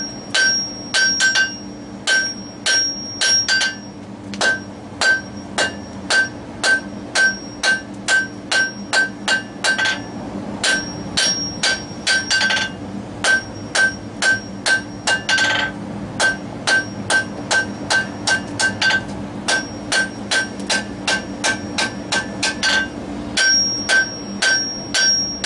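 A blacksmith hammers a bevelled leaf scroll on an anvil in a long, steady series of sharp ringing blows, loud and close, each strike followed by a brief metallic ring.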